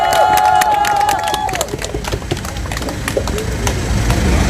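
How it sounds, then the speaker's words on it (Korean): Crowd applause at a Korean press conference, a steady wash of many hands clapping throughout, loud and close, with some tonal feedback-like ringing early on. "큰 박수 부탁드립니다"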